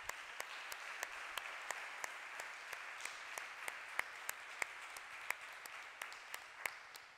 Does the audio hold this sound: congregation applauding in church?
yes